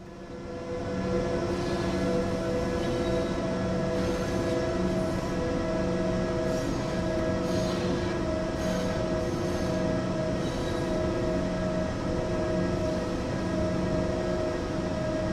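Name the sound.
train running on the Semmeringbahn in Train Sim World video game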